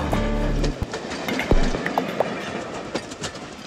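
A train passing, with a loud horn-like tone at first, then rumbling wheels and scattered clicks and squeaks.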